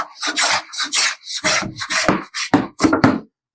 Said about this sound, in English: this is a number 5 Stanley bench plane